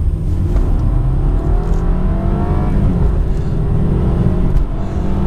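BMW 220i car accelerating hard from standstill toward 100 km/h, a loud continuous engine drone with rising harmonics heard from inside the cabin, steady with no talk.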